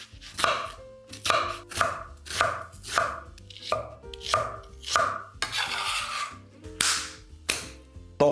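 A knife chops an onion on a cutting board in a quick, steady rhythm, about a dozen crisp strikes close to the listener.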